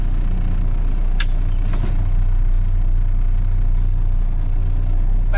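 A semi truck backs under its trailer to hook up, its diesel engine rumbling steadily up close, with a couple of brief hissing air-brake bursts over the low drone.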